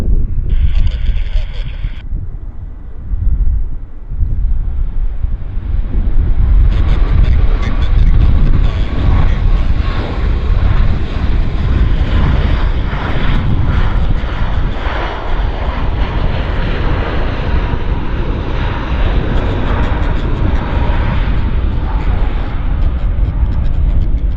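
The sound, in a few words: aircraft at Vancouver Airport runway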